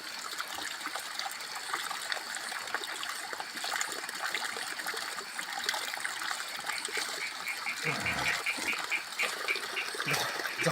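Spring water trickles and gurgles steadily from a hillside source, a close, continuous bubbling stream with one brief louder splash partway through, without any talk.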